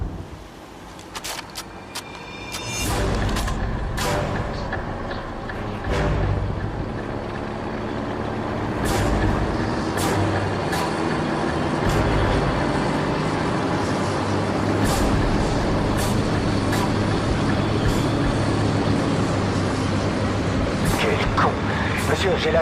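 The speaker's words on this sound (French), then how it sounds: "On suit un convoi ennemi qui se dirige vers vous. Je compte 6 véhicules dans le convoi" A convoy of enemy vehicles, six in all, rumbles closer in the video game Call of Duty Modern Warfare, heavy truck engines droning steadily with hissing brakes, while voices talk over the noise.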